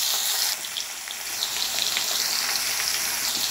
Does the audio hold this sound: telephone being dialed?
no